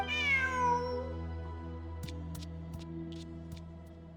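A cat meows once in the Genshin Impact video game, a clear rising then falling cry up close, followed by a low steady hum and a few faint clicks.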